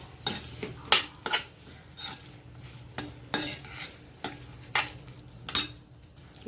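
A spoon stirs cashews into a tomato masala gravy in a pan, producing a series of distinct scraping clinks against the metal over a soft, low sizzle.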